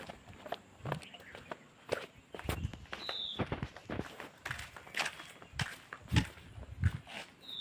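Footsteps head down a flight of stairs, a string of uneven, fairly close thuds and scuffs with short pauses between them and a few faint bird chirps behind.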